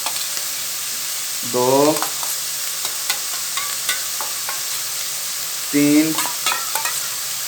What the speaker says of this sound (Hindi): ये 4 चम्मच लहसुन अदरक का पेस्ट डाल के इसकी बुनाई करेंगे कीमे की